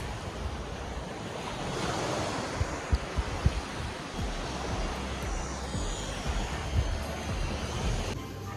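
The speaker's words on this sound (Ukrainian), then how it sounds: "я спустилась до моря і море я люблю ще більше" Sea waves wash steadily onto the shore at Odesa, a continuous broad roar of surf with some wind noise, heard up close with no talking.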